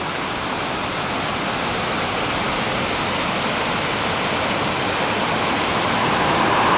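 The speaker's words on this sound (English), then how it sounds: "that river that we were looking at, or brook, or call it what you like, drops about 30 feet here into a kind of" A river or brook drops about 30 feet into a small canyon, making a loud, steady waterfall roar of dense broadband rushing that holds unchanged throughout.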